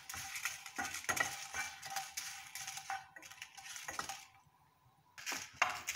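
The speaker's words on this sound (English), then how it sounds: "Dry roast the red chili." Red chilies dry-roast in a hot pan over high flame, giving a faint, steady crackle broken by scraping, stirring clicks of a utensil against the pan, alone and close with no talking.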